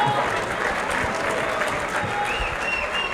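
Crowd applause for a rapper at a #meetmetonight show: loud, continuous clapping from an audience, an even wash of hand claps with no pauses throughout.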